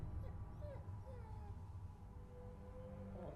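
A dog in a Supernatural episode gives several faint, high whimpers and whines, rising and falling over a low murmur of background sound.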